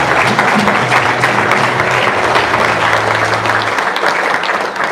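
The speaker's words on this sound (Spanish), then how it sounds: "Denle un aplauso al Señor." A church congregation claps loudly and steadily during a Spanish-language worship service, with a low sustained tone running beneath the applause before it tapers off.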